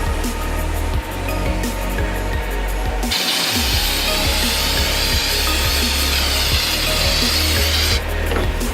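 Activator spray hisses steadily onto a hydrographics film for custom Fatshark FPV goggles, a loud, close, continuous whoosh lasting several seconds over constant background noise.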